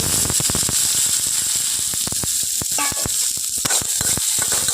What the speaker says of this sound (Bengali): কালো জিরেটা খুব ভালো করে ভাজা হয়ে গেলে এখন আমি এখানে দিয়ে দেব কয়েকটা কাঁচা লঙ্কা সঙ্গে দিয়ে দেব কয়েকটা পেঁয়াজ